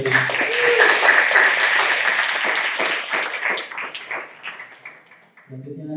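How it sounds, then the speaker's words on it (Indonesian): Applause rises from the audience at a national robot competition after a school team's presentation, fairly loud at first, then thinning into scattered claps as a voice starts speaking near the end. "Beri tepuk tangan terlebih dahulu."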